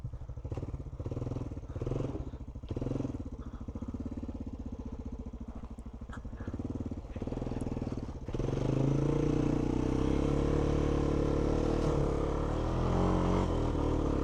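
A 2026 Honda TRX250X ATV engine chugs and putters unevenly as the quad is walked sideways up a hill, then settles into a louder, steady drone partway through.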